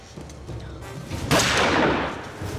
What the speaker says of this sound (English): now eerily silent, except for gunfire and the rantings of a madman